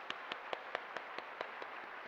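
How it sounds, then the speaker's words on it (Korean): Applause for teachers during a church service comes as faint, evenly spaced claps, about four per second, that keep a steady beat in an otherwise quiet room. "선생님들께 우리 감사하다고 박수 한번 하겠습니다"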